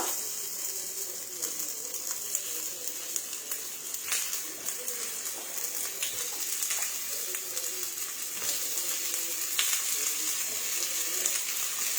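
Sabudana vada balls fry in oil in an appam pan with a continuous crackling sizzle, close by, with small pops and clicks scattered throughout.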